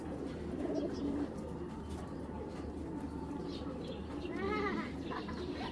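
Pigeons of old breeds, including Moshal birds, coo in a loft, a steady low murmur of overlapping calls throughout, swelling slightly near the end, with a faint voice in the background.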